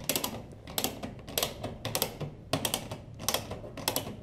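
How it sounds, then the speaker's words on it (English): A ratcheting wrench turns the draw stud of a knockout punch that is cutting through sheet metal at the back of a cabinet, giving bursts of rapid, close clicking in regular strokes with brief pauses between them. "Now I'll go ahead and turn the draw stud using the ratcheting a wrench until the material is punched."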